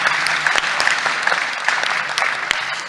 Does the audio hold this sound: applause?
yes